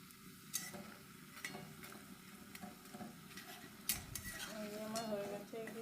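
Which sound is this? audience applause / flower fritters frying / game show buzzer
flower fritters frying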